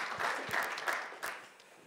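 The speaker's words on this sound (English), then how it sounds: "Please give her Kun a round of applause" Audience applause at an innovation pitch final for Thailand and Vietnam, a short burst of scattered clapping heard at moderate distance and fading out toward the end.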